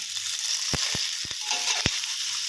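Mixed vegetables with chicken stir-fry in a pan under a constant bright hiss of sizzling, punctuated by several sharp spatula clacks against the pan; close up, no talking.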